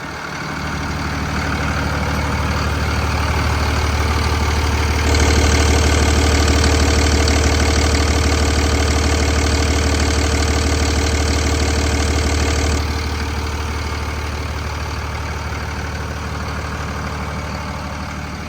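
Cummins diesel engine of a 2023 Mack MD6 service truck idling and running loudly up close, a steady knocking rumble that swells for several seconds in the middle, then settles back.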